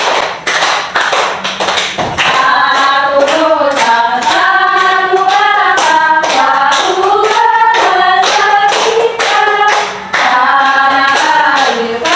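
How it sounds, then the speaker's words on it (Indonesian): A classroom of children clapping steadily in rhythm while singing a national song together, loud, close, even claps running under the massed young voices throughout. "Bisa sambil tepuk tangan ya."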